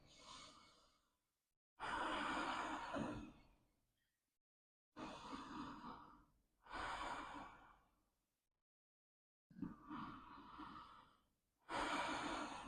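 Slow, deep breaths during a yoga forward fold, with long airy inhales and exhales separated by pauses, close and quiet, about five breath sounds.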